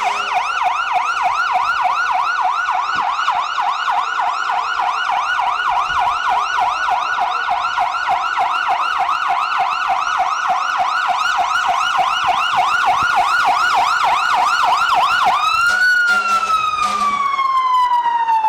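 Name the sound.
fire engine siren passing in a parade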